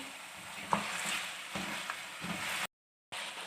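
Meat and spices frying together in a karahi for quail karahi, a steady close sizzle with a few soft stirring knocks, briefly cut to silence partway through.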